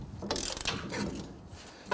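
A ratchet loosens a rear brake caliper bolt on a Nissan Frontier, several quick metallic clicks followed by a short clunk, close and fairly quiet.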